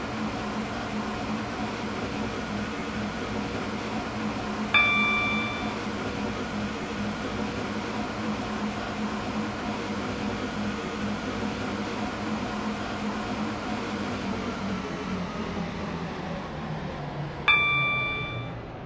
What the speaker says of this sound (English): This train is now approaching Rocket Parade.